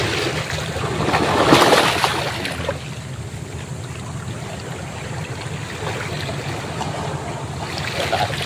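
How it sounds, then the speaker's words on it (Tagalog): Ocean waves wash against rocks on a rocky islet coast at Morong, Bataan, a broad surge swelling near the start and then settling into a steady rushing roar with wind, loud and close. "Ang ganda ng ampas ng alon."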